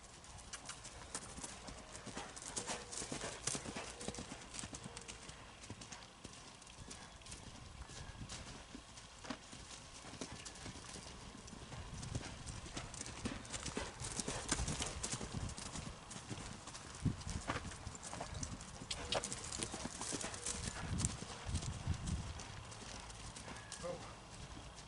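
A horse being ridden, unseen for two years, walks with steady clip-clopping hooves throughout, fairly close, while people talk intermittently over the hoofbeats and the horse occasionally snorts.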